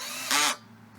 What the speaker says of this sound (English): we can give it a little more speed and a little more pressure, and eventually it'll drill itself right into that metal